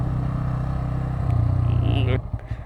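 A Bajaj Pulsar N160 motorcycle engine running close by with a steady low rumble that swells slightly before cutting off abruptly near the end.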